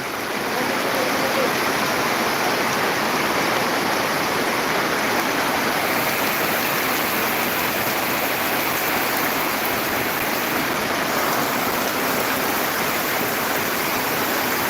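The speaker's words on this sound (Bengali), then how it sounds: "এরকম বৃষ্টি কোনো সময় আমি দেখিনি প্রচণ্ড বৃষ্টি" Heavy monsoon rain in Tripura pours down steadily and loudly, a dense continuous roar with no break throughout.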